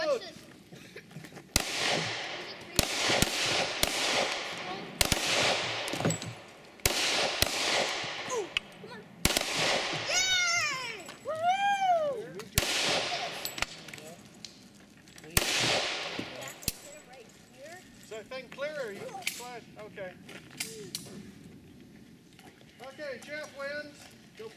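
Repeated shotgun blasts at a trap shooting range, about ten sharp loud reports spaced a second or two apart, with voices talking and calling between shots.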